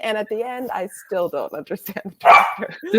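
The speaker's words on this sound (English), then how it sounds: "Sorry about the barking." A dog barks loudly in short bursts right after someone speaks during an online panel discussion; the yaps come once, close and sharp, following continuous talk.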